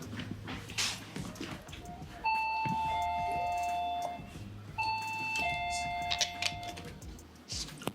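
A two-tone electronic doorbell chimes twice in a home, each clear ding-dong ringing out and fading, with quiet room noise between.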